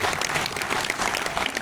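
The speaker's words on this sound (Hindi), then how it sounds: "जरा सी ताली हो जाती" Audience at a Hindi comedy poetry recital (hasya kavi sammelan) breaks into dense, sustained applause, a close crowd clapping steadily throughout the short burst.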